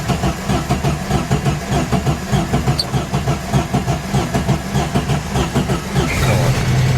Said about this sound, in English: I'm gonna get the battery connected and then I'm gonna see if she starts.